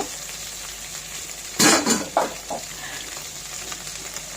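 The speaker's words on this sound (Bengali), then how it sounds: "তো প্রথমে ঢেঁড়সগুলো আমি একটু তেলে ভেজে নেব।" Okra dropped and frying in a little oil in a pan, a sudden loud burst of sizzle and clatter followed by a few quieter scrapes over a faint background hiss, no speech.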